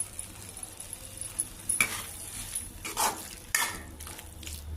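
A spoon stirs cucumber curry with freshly chopped coriander in a pan, giving soft scraping, a faint sizzle and a few sharp metallic taps against the pan, all quiet and close.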